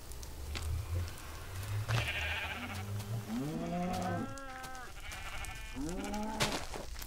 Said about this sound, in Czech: Tyhle, to je blbá ovce.